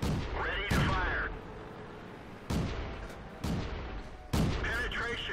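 Tank cannon shots in World of Tanks ring out from a Type 95 Ha-Go light tank battle, four sharp booming blasts spaced a second or two apart over a steady engine rumble.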